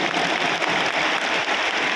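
A large crowd claps in dense, continuous applause at Anies Baswedan's final election campaign rally in Jakarta's JIS stadium. The applause stays even and loud throughout.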